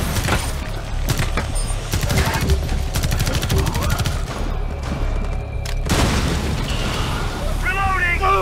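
In the video game Rainbow Six Extraction, explosions and bursts of gunfire boom repeatedly in dense clusters, with players talking over the chaotic combat noise.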